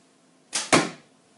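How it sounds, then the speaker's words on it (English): A projectile, likely an arrow, strikes a target in a quick double burst: a short whoosh then a sharper thud, close and alone, against quiet surroundings. "I can actually hear when I hit the target."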